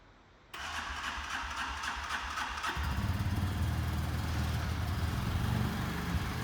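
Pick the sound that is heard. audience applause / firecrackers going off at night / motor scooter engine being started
motor scooter engine being started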